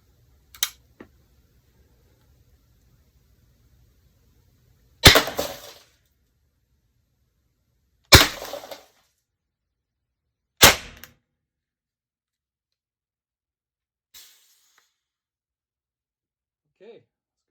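Shots from a Pepperball VKS launcher loaded with modified Grimburg HP68 projectiles strike glass, giving three loud sharp cracks with brief shattering spaced a few seconds apart, plus a couple of faint clicks and a short voice near the end.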